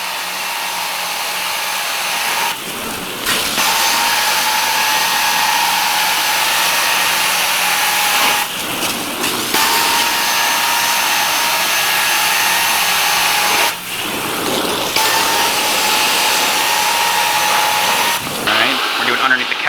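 Carpet cleaning extractor wand on a 2-inch suction hose pulling water from carpet, a loud continuous roaring whine broken by three brief dips as the wand lifts between strokes.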